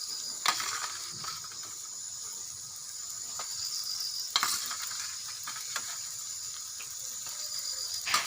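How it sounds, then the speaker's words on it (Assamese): Chicken pieces sizzling in hot spiced oil for a chicken curry, a steady close frying hiss broken by sharp stirring scrapes and clatters at intervals, with no voices. "ইয়াতে মই এতিয়া চিকেনখিনি দি দিম।"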